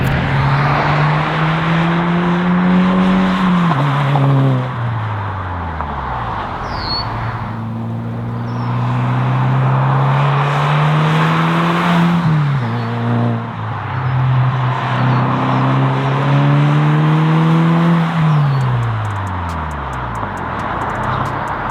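A 2023 Subaru WRX makes several loud, close flybys, its engine note climbing as the car approaches and falling away as it passes, again and again with no talk.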